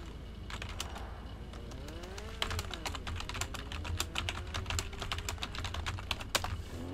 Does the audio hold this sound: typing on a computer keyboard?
yes